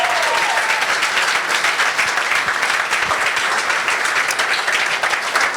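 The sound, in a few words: audience applause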